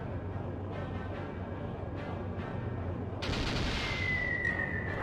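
Cannon fire in the video game Skies of Arcadia Legends: a series of deep booming shots over game music, then a louder burst of blast noise followed by a rising tonal effect.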